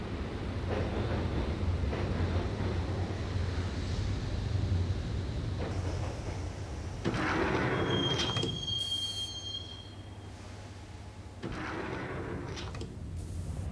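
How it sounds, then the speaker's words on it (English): A subway train ride in the 2001 video game Max Payne: a steady low rumble of wheels on rails, with squealing wheels and sliding-door sounds rising partway through, and no talk. "the train doors had already shut behind me, and I was in for the ride"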